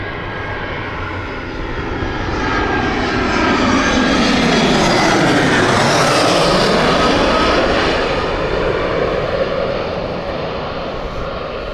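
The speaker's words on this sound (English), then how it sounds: "joining out soon is the EasyJet from Zurich, Airbus A380 coming in" EasyJet airliner from Zurich landing at Gatwick Airport, a loud engine roar that swells as it passes overhead with a clear pitch sweep, then fades.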